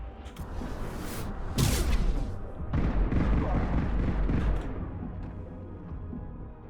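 Gunfire from the video game Mass Effect 2 on Insanity difficulty: heavy, booming shots and blasts stacked over one another with a dense crackle, loudest in the middle stretch and easing off toward the end.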